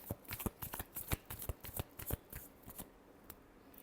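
Tarot cards being shuffled by hand in a quick run of crisp riffling flicks and slaps, close and fairly quiet, tapering off toward the end with no voices.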